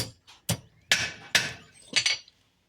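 A horseshoe nail struck with a hammer at the tip of an anvil horn, five sharp ringing metallic blows at an uneven pace, close and loud, each leaving a brief bright ring, with no voice.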